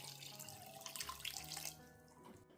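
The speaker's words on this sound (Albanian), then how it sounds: "Në 1 kilogram sheqer do të shtojmë 1 litër me ujë" Water pours in a steady stream onto a kilogram of sugar in a pot for a baklava syrup, a close, bright rushing gush that eases off toward the end, with no talk.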